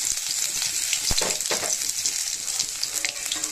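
Chopped ginger and asafoetida frying in hot oil in a pan, a steady close sizzle with a few stirring scrapes, no talking.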